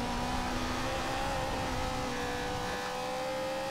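A Ferrari engine in the Forza Horizon 2 racing game, a steady mid-pitched drone with tonal whine held at roughly constant revs through the whole short stretch, fairly quiet, with no talking.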